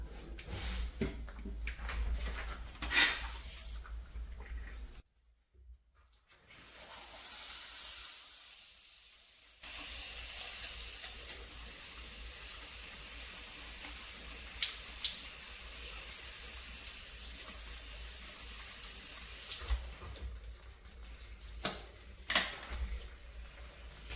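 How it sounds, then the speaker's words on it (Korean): A handheld shower head sprays water over fig and grape cuttings, giving a steady broadband hiss that runs for long stretches, briefly cutting out twice before resuming at moderate loudness. "그래서 이렇게 샤워기로 이제 물 주시고"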